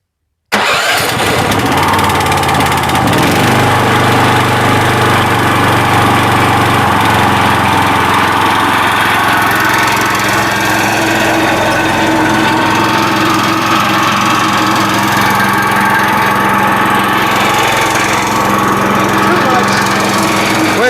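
A riding lawn mower engine cranks, catches and settles into a loud, steady mid-pitched running drone that continues throughout at close range, with no talk heard over it.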